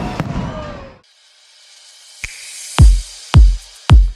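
Fourth of July fireworks burst over Branson Landing, several deep booms in succession with crackling tails, loud and spaced about half a second apart after a hissing launch, following a brief stretch of voices.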